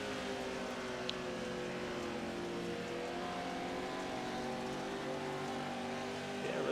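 Off-road race trucks accelerating hard around a dirt track in the Montana Off-Road Series, a steady loud engine roar that builds toward the end, heard over crowd and ambient noise with commentators talking.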